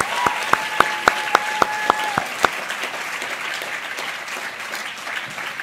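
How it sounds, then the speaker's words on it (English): Audience applause at a healthcare awards evening rolls on as a dense, steady wash, with a run of sharp, evenly spaced tones ringing through the first couple of seconds. "Let's give everyone a final round of applause"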